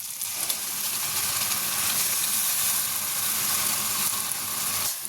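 Tomato paste hits hot oil and fried spices in a pan for a prawn malai curry, giving a loud, steady, close sizzle that holds evenly for about five seconds before cutting off sharply.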